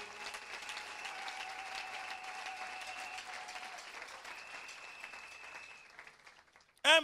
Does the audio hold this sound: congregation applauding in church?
yes